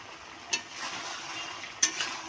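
Stirring pumpkin and fish roe curry with sugar in a pan over the heat, a soft continuous scraping sizzle broken by two brief sharp utensil knocks against the pan.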